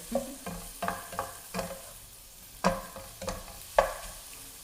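Shrimp stir-fried in a pan for asparagus stir-fry, with a steady sizzle broken by repeated sharp scrapes and clatters of the spatula, close and fairly loud, no voices.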